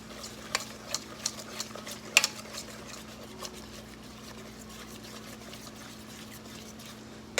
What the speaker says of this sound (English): take your yellow mustard and just stir it up into these dry ingredients